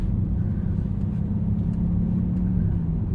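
Steady low engine rumble and road drone from inside a BMW 760Li sedan on a taxi ride, a constant close hum with faint ticks and no talk.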